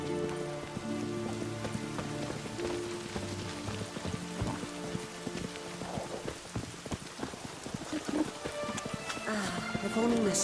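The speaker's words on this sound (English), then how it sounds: "Looks like rain." Rain patters steadily in the Skellige Isles of the video game Witcher 3, a soft continuous hiss with scattered drops under game music and occasional hoof-like clops.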